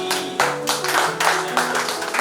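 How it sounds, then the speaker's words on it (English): A small inauguration crowd at a wellness centre opening claps in loose bursts, the sharp, fairly close hand claps swelling and dipping in uneven waves against a low steady hum. "A big standing applause to the President and the"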